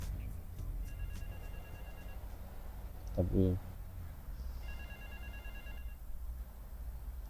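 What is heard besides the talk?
telephone ringing in the video game GTA 3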